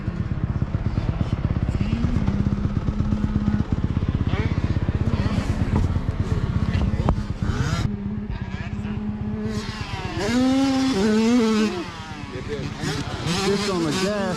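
A Yamaha YZ250 two-stroke motocross bike ridden hard on a dirt track, its engine buzzing loud and steady with revs rising and falling through jumps and corners, a voice briefly heard over it.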